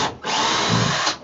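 A power drill bores holes into a plastic bin, two loud whirring bursts that rise and hold with a brief dip between them, close and alone without talk.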